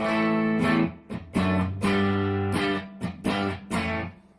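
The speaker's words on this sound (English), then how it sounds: "This is the clean sound of the guitar." Clean electric guitar chords strummed through an amp, several ringing strikes with short pauses between, bright and undistorted, with no one talking.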